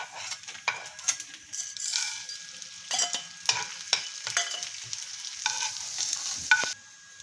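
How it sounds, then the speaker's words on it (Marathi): Edible gum (dink) frying in ghee for makhana laddu, a soft bubbling sizzle broken by clinking stirs of a spoon against the pan, close and quiet. "आता आपण हा डिंक तळून घेऊया"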